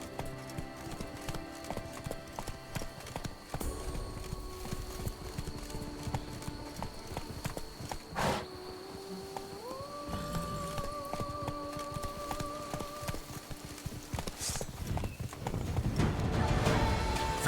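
Hoofbeats of Roach, Geralt's horse in The Witcher 3: Wild Hunt (Blood and Wine), drum in a steady galloping rhythm throughout, with a brief whinny and game music tones layered over the clip-clop.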